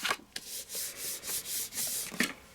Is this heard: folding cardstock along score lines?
yes